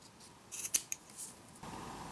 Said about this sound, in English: These scissors cut better than the scissors on some of my like more expensive